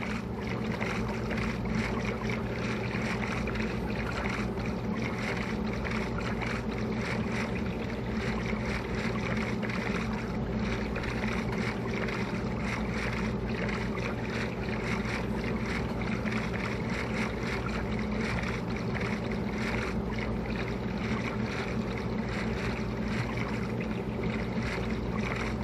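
Minecraft boat moving across water, a steady wash of splashing and rushing noise running unbroken and fairly loud throughout with no voices.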